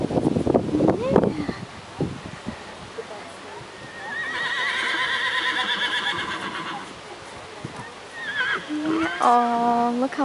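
A horse at a horse judging event gives a loud whinny near the end, after rustling, wind and a sustained high tone. People talk at the start.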